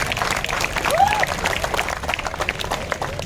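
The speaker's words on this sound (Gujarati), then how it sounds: "સેવકની જોરદાર તાળીઓથી સ્વાગત કરીશું આપણે" Applause from a village crowd at a volleyball tournament final presentation, a dense steady patter of clapping for about three seconds with a faint voice mixed in.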